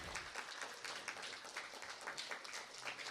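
A crowd applauds steadily at a symposium opening ceremony, dense clapping filling the whole stretch at a moderate distance with no voices on top.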